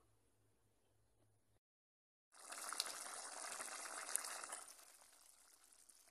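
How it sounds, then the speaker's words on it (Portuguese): Homemade tomato paste bubbles in a covered pot, a steady close hiss of boiling that starts abruptly after a brief silence and holds for several seconds before easing slightly. "Agora vamos tampar aqui e deixar ferver."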